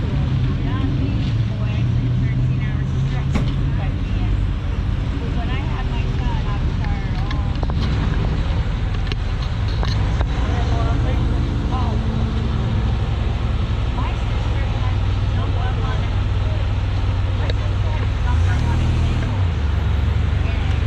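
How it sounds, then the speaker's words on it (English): Four-cylinder car engine idling steadily at an outdoor hot rod car show, a low continuous rumble under wind noise and background crowd voices throughout. "Sounds like a 4-cylinder, don't it?"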